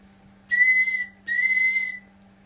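A very loud, shrill whistle sounds in two sharp blasts of about half a second each, separated by a brief pause, over an otherwise quiet background.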